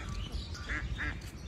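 Ducks and ducklings quacking at a resort, two or three short, faint calls over a low background murmur.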